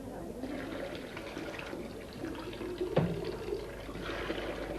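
Water gushes and splashes from an old hand water pump in Lincolnshire, a steady pour with a brief sharp clank near the middle, heard up close.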